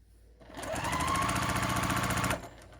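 A sewing machine runs in one steady, rapid burst for about two seconds while stitching quilt block pieces together, with a close, rhythmic mechanical chatter before it stops.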